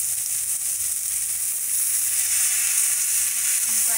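Sabudana khichdi with tomatoes and rock salt is being stirred in a hot pan, giving a steady, dense sizzle with a soft scraping texture throughout and no talking.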